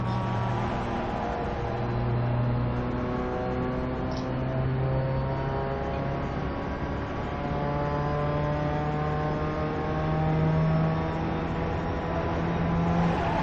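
A race car runs on the track at Summit Point Raceway, its engine drone holding steady harmonic tones with slow pitch shifts through gears and corners, loud and continuous throughout with no talking.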